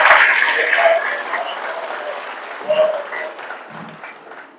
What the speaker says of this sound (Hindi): एक ताली बजा करके फिर से संदेश दीजिए सभी लोग लखनऊ तक आवाज जाने के लिए